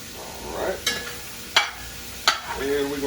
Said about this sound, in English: And we're gonna stir it so it don't stick.